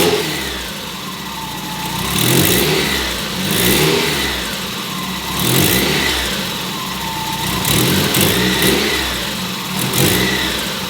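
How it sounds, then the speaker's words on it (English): A Mazda Miata engine, freshly fitted with new spark plugs and ignition wires, runs close by, idling with a steady drone and rising in a few gentle revs that swell and fall back. "we're just gonna start the car up and see how it runs"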